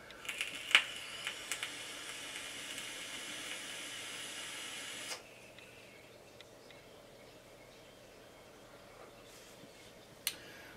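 A double-coil dripper e-cigarette at 0.4 ohms gives a steady, airy hiss of vapor for about five seconds, marked by a few small crackles, then drops to a faint background hush with one sharp click near the end.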